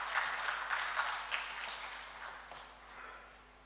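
Audience applause greeting the chief guest as he comes on stage at the inaugural ceremony of the 45th ICQCC 2020 in Dhaka, a light, scattered clapping that tapers off within a few seconds.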